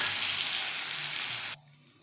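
Spice paste of ground poppy seed and dried red chilli sizzles loudly and steadily in hot mustard oil for a fish curry, a dense close frying hiss that cuts off abruptly near the end.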